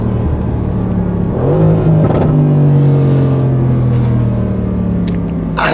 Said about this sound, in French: Puis surtout l'échappement. Ouais. Mais là, le biturbo, tu le sens bien.